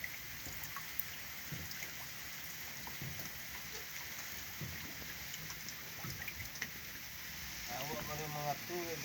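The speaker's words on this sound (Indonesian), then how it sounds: "Hari sudah mulai hujan sobat." Rain falls steadily on Lake Maninjau during night fishing, a constant soft hiss with scattered drops throughout. A voice speaks over it at times.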